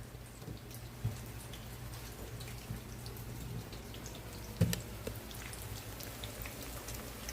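Eggplant pieces frying in hot oil for a Korean dish, a steady soft crackle and sizzle with occasional sharper pops, close and fairly quiet, no talking.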